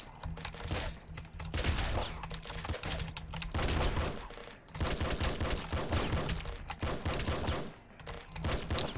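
Enemy shotgun fire in Nuclear Throne, heard as rapid, dense bursts of crackling gunshots in quick volleys, broken by short pauses, with mechanical clatter mixed in.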